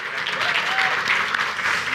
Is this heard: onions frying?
no